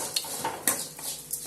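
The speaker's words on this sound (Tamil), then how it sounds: "இப்போ வந்து தேங்காய் போட்டாச்சுல, மொத்தமா போட்டு ஒரு வதக்கணும்." Grated coconut being stirred and sautéed in a pan for Tamil coconut rice, with soft scraping spoon strokes against the pan and a light sizzle, several distinct clinks spaced through the stretch, fairly quiet and without talk.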